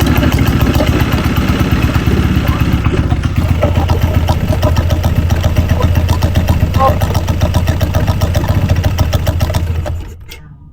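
Motorcycle engine kick-started after a repair, running steadily with a loud rapid chattering rhythm and a clattering scrape, then cutting off near the end.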